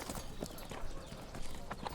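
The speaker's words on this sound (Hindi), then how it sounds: "ये पोलोविस्तियन घोड़ा है जिसकी राजकुमार सवारी कर रहा है।" A ridden Polovtsian horse gives off soft, fairly faint hoofbeats at an uneven pace, with faint talk in the background.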